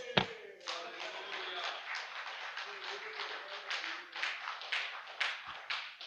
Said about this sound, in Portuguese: Mais palmas ao Senhor.